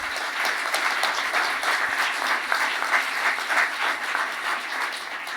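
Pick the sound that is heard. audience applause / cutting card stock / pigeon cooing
audience applause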